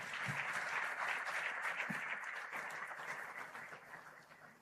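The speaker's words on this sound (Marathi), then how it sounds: "ह्या दोन्हीही महान विचारवंत आणि कृतिशील विचारवंतांसाठी जोरदार टाळ्या झाल्या पाहिजेत" A crowd at a student-wing political speech by Amit Thackeray applauds two thinkers with sustained, dense clapping that holds steady for several seconds and then gradually fades out.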